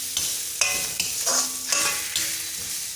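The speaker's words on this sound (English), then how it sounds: "See, I've added the groundnut paste. Just saute for about 2 minutes," Groundnut paste sautés for mango rice in a pan, with several close scraping stir strokes over a soft, steady sizzle and no talking.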